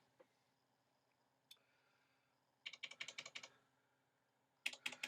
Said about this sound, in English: So if I type in a channel, I can type it in here.